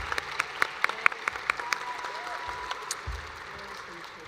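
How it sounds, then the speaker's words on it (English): Applause at a state awards ceremony for student inventors, a handful of sharp, distinct claps standing out at first over a softer crowd patter that thins and fades within a few seconds, with faint background voices. "we are gonna go ahead and give them a round of applause"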